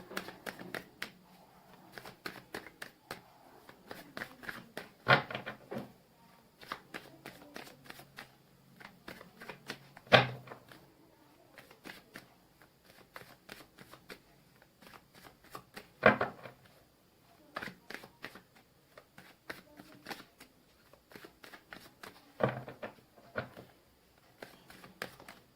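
Tarot cards being shuffled by hand for a reading, with soft, steady riffling and patter that swells into several sharper bursts spaced a few seconds apart, close and quiet, without talk.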